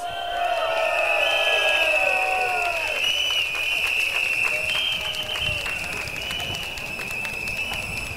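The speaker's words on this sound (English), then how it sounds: "give yourselves a round of applause" A crowd at an SDP election rally for Sembawang West SMC in Singapore cheers and claps in a loud, sustained roar lasting several seconds, with steady whistle-like tones running through the noise.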